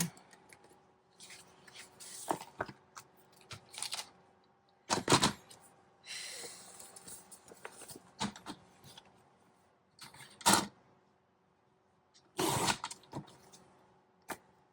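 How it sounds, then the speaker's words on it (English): A sewn journal signature is trimmed, with close, short bursts of crisp cutting and rustling paper separated by quiet gaps, several distinct snips spread across the stretch. "So I'm going to trim it right now."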